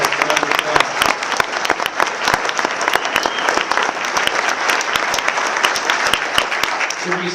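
A dinner award ceremony audience breaks into loud, sustained applause, dense rapid clapping filling the room steadily for several seconds, close and full, with faint crowd murmur mixed in.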